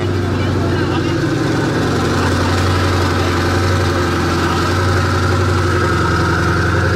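A Koenigsegg supercar engine idling at a street rally in Paris, a steady low rumble holding throughout with faint crowd chatter around it.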